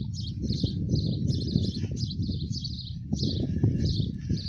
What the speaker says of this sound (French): Toujours les oiseaux.